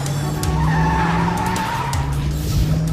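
A stolen car driven hard down a two-lane road, engine roaring steadily with tire squeal and skidding noise throughout, loud and close.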